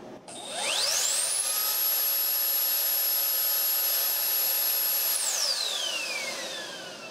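A Dyson Airblade hand dryer motor spinning up with a rising whine that climbs to a steady high-pitched scream, holds for several seconds, then winds down in a falling whine, loud and close.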